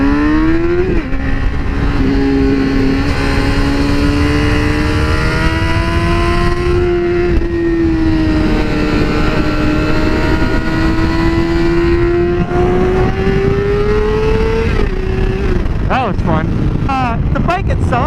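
A Honda motorcycle engine drones loud and close on a race track, its pitch rising and settling through long held gears, then flicking through quick revs near the end, with wind noise over the top.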